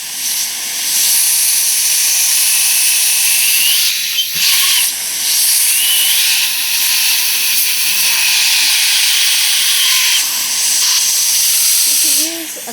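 A dental air syringe blows a steady, loud hiss of air to dry a Class II tooth preparation, running almost continuously with a couple of brief breaks and faint background noise.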